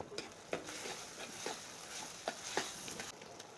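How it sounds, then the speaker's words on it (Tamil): Curry leaves tossed into a pan of frying onion and tomato for a brinjal and chickpea kuzhambu, giving a soft broadband sizzle with several sharp stirring scrapes at irregular intervals, close and fairly quiet. "ஒரு கொத்து கருவேப்பிலை போட்டுக்குவோம்"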